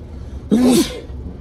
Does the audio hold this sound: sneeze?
yes